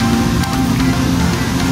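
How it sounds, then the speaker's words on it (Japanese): Heavy downpour outside a beach resort hotel on Ishigaki Island, a steady loud wash of rain with no pauses, filling the whole moment with dense hissing noise. "外はすごい雨、土砂降り"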